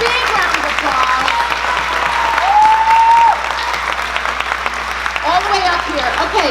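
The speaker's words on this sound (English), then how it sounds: "Everybody give him a big round of applause." Audience at a church-style program claps loudly and steadily, with cheering and whoops mixed in while a voice speaks over the applause.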